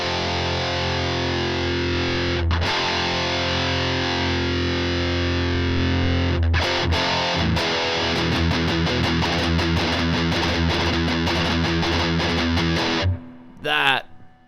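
Distorted electric guitar runs through a distortion pedal modeled on a Tone Master Pro, first holding a thick sustained chord, then chugging in fast palm-muted rhythmic bursts before a brief stop and a short final strum.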